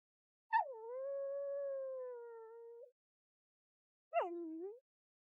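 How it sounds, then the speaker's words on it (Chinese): A dog howls in one long, drawn-out, slightly falling wail, then after a pause gives a short, higher whimpering cry. Both are clear and close, with no other sound. "原来大黄是为了救这只小狗才乱跑的"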